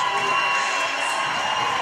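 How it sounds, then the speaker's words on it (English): A large crowd cheers and roars at a boys high school hockey state semifinal, a steady wash of loud, near-continuous noise filling a short stretch. "Going to be a really loud crowd on hand here for tonight's game"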